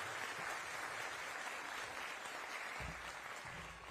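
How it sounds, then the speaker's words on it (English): A crowd applauds steadily, dense clapping from many hands at a modest distance, fading slightly toward the end. "a round of applause for Peabody Cable"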